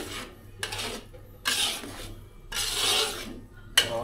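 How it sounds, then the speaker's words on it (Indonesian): Shallots for beef rendang are sautéed and stirred in a pan, with bursts of rasping scraping and sizzle in a few separate strokes, close and moderately loud, without talking. "Nih, ditumis teman-teman, ditumis dulu."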